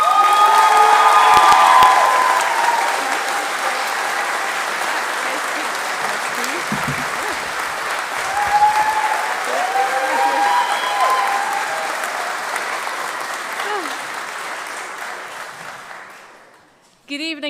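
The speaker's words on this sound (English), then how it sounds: "I'd like you to give her a very warm round of applause to Thureya Roberts." A graduation ceremony audience at Fife College breaks into loud, sustained applause with some cheering and whoops, the clapping staying dense for most of the stretch before thinning out and fading near the end, with brief voices mixed in.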